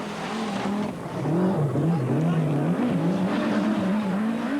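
A yellow four-wheel-drive Audi Quattro rally car races over desert sand in the Dubai Rally, its engine roaring loudly and continuously with rising and falling revs, up close and dominating throughout.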